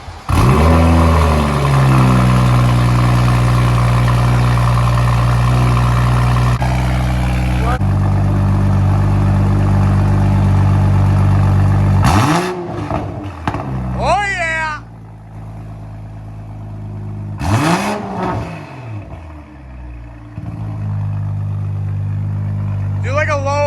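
A 2021 BMW M340i fitted with a VRSF high-flow downpipe starts up and holds a loud, steady idle, then gives two sharp revs that climb and fall, closely recorded with brief talk during the quieter idle.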